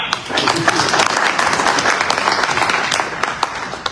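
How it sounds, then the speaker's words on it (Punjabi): Applause from an audience at a seniors' society New Year and Lohri celebration, a dense burst of clapping lasting several seconds at close range before thinning out. "ਤਾਲੀਆਂ"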